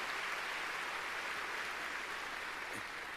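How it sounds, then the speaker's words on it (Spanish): A church congregation claps loudly for the Lord, a steady, dense wash of applause with no single claps standing out, fairly quiet and distant throughout. "démosle palmas fuertes a nuestro Señor"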